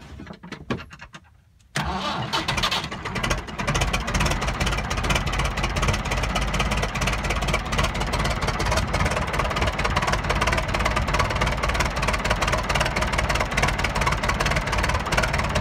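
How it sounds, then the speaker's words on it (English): Massey Ferguson tractor cold-started outdoors in falling snow: a brief cranking after a quiet moment, then the engine catches and settles into a loud, steady, knocking diesel idle that runs on close by. "I'm going to do a cold start on the Massey."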